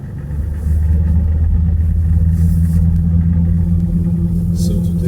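Car cabin drone of engine and road noise, a steady loud low rumble that swells after the first half second and holds evenly, with no talking.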